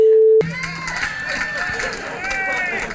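A roast audience erupts in loud cheering, whoops and applause after a sharp tone cuts off, with crowd noise staying dense and lively throughout.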